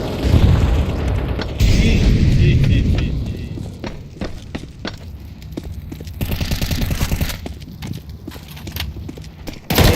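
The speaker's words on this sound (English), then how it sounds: "Deploying flashbang." A flashbang grenade goes off in the Counter-Strike 2 video game, with loud booming blasts near the start and again midway, along with scattered sharp clattering hits in between.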